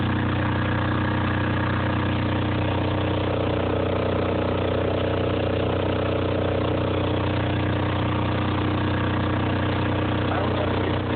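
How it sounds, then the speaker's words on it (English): A Caterpillar C6.7 kW diesel portable standby generator running, a loud, steady low droning engine note held unbroken throughout with no pauses. "So go ahead, I'll power it on. The generator, at least."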